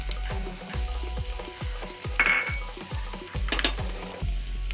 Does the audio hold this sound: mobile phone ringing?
no